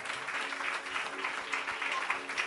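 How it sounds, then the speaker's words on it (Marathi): A congregation at a Christian Marathi sermon by Pastor Nitesh Nade claps steadily, a faint, even crowd applause heard from some distance, without any speech. "जरा जोरदार टाळ्या."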